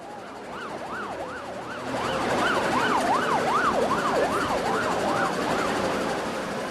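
Emergency vehicle siren wailing at an accident scene, its rising and falling tone sweeping steadily and growing louder and closer midway, over constant road and crowd noise.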